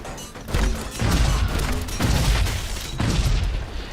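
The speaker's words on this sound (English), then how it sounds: "The way that I recommend you take him down is to just stay up here and bounce grenades his way." Grenades explode in the video game Shadow Complex, several heavy booming blasts in quick succession with rumbling low thuds, loud and dense, one roughly every second.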